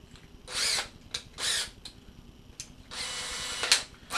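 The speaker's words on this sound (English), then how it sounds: "Then I grab my drill gun." A cordless drill spins in short bursts to thread a clevis during a wing build, several brief whirring pulls followed by a longer run, close and fairly loud.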